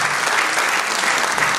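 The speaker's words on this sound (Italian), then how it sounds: "intanto un applauso ai nostri ospiti" Audience in a theatre applauding guests, a dense, steady wash of clapping that stays loud and even from start to finish with no voices over it.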